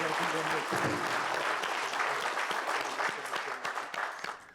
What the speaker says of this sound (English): So I want to give them one more round of applause.